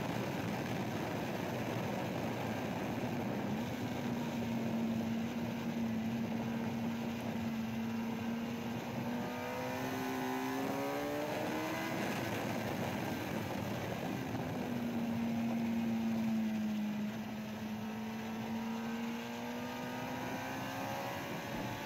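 A Suzuki GSX-R K6 sports bike on the Donington track drones steadily, its engine pitch rising and falling through gear changes and corners, heard continuously with a windy, hissing background and no voices.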